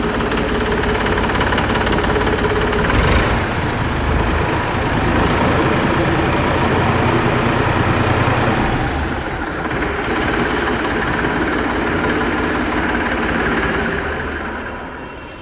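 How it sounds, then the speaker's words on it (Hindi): A 2025 Massey Ferguson 245 DI 46 hp tractor engine starts and rumbles steadily at idle, loud and close, with a constant low vibrating drone throughout. "अब बारी है ट्रैक्टर का साउंड सुनने की, तो कर लेते हैं ट्रैक्टर को स्टार्ट"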